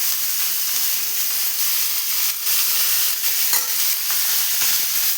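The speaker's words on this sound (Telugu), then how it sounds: "పచ్చిమిరపకాయలు, ఉల్లిగడ్డలు, టమాటాలు మొత్తం వేసేద్దాము. అదే ఆయిల్లో వేసేద్దాము." Green chillies, onions and tomatoes fry together in hot oil for a ridge gourd chutney, giving a steady close sizzle and hiss with occasional stirring scrapes and no talking.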